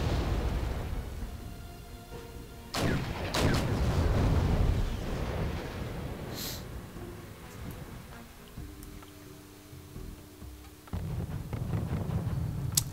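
Artillery fire in a war strategy game, with T-62 tanks in a forest, comes as several loud booming blasts with sharp transients, followed by rumbling and a lower, steadier mechanical drone.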